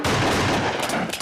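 Rapid gunfire bursts from a shootout in the LOST episode "Not in Portland", loud and dense across a short stretch, with a heavy low rumble and scattered sharp cracks.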